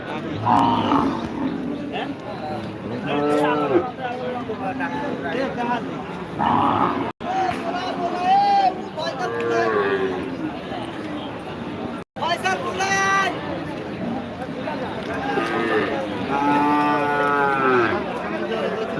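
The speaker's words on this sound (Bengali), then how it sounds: "আপনাদেরকে দেখাবো গাভি বাছুর দেশি জাতের যেসব গাভি বাছুর রয়েছে" At the Betagi cattle market, local-breed cows and calves moo repeatedly, close and loud, while a person talks nearby throughout.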